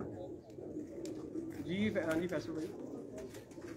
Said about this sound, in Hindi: ये चूहा छत वाला कबूतर क्या बात है